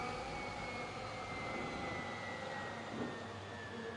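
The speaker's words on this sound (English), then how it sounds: "you can hear his car powering down like a crashing plane" A race car in a racing game at the Baku circuit in Azerbaijan powers down after crashing into a wall, a faint, steady whining drone like a descending aircraft engine, with no voices.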